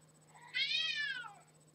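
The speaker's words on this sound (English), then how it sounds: "And I got my cat yelling at me, so if you guys can hear that, I apologize." A pet cat lets out a single loud, drawn-out meow, close and clear against a faint steady hum.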